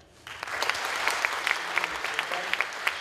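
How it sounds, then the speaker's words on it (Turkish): A theatre audience at a Turkish theatre performance in Moscow breaks into applause, which starts suddenly and continues as dense, steady clapping with a few sharper individual claps standing out nearby. "Şu an alkış seslerini duyuyorsunuz."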